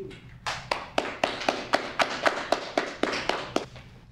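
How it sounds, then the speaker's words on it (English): A small audience at a library poetry reading claps for a poet, about a dozen distinct, fairly regular claps close by, sparse and without voices. "let's give Rudy a great round of applause."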